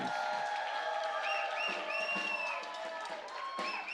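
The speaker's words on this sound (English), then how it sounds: "Let's give him one more big round of applause, please" Applause and cheering from an audience at a drum show, a dense continuous wash of clapping with scattered whoops, steady throughout.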